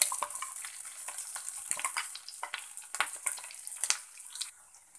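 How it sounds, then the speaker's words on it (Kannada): Ground masala frying in a pan for vegetable sagu, with a soft, steady sizzle and crackle broken by scattered stirring scrapes, fairly quiet and close. "ಈಗ ನಾವು ರುಬ್ಬಿಟ್ಕೊಂಡಿರೋ ಮಸಾಲೆನ ಇದಕ್ಕೆ ಸೇರಿಸೋಣ."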